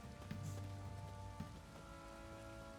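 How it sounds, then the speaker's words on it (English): Steady rain patters and hisses in the Witcher 3 video game, a continuous soft wash of falling drops with a low windy rumble underneath. "Yeah, it is raining and it's windy."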